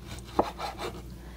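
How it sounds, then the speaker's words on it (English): A single sharp knife chop lands on a cutting board while tomatoes are being cut, one crisp close thud amid quiet kitchen room noise. "Now I'm going to chop and de-seed the tomatoes"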